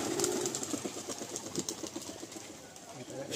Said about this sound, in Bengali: এই 6টা পায়রাই উড়িয়ে দেবো।